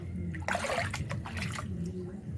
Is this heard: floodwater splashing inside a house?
yes